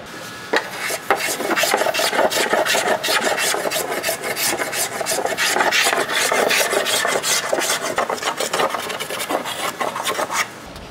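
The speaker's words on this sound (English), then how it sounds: "I'm just gonna start smoothing it out." A rasp files and smooths the rails of a wooden surfboard by hand, giving steady close scraping strokes in a continuous rough rhythm throughout, with no talking.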